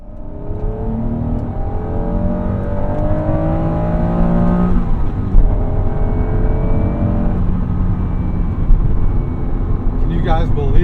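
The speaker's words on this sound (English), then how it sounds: "Can you guys believe that exhaust noise? That induction noise?" A 1996 Acura NSX-T engine revs and rasps through its exhaust and intake as it accelerates, pitch rising in sweeps with a brief dip at a shift, loud and close throughout.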